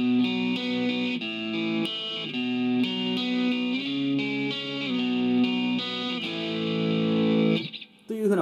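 Overdriven electric guitar through a Zoom MS-50G multi-effects pedal, playing a guitar part of a song. Picked chords ring in a steady, sustained stream, loud and up close, with no voices. The playing stops abruptly near the end.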